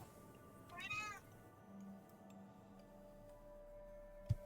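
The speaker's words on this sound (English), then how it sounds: "I heard a cat." A single cat meows once, clear and fairly close, over a quiet room hum with a faint ticking and a sharp tap near the end.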